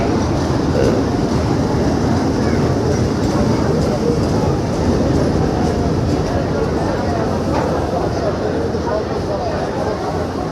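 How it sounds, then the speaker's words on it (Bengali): A small six-coach passenger train, crowded with riders, arrives with a loud, steady rumbling roar of rolling wheels and cars close by, constant throughout. "ট্রেন চলে আসছে, ছোট ট্রেন এটা, একেবারে ছোট।"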